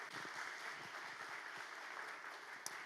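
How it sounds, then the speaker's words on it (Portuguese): A church congregation claps during a sermon, very faint, distant applause forming a soft continuous wash with a brief sharp click near the end. "Dê uma salva de palmas ao Senhor."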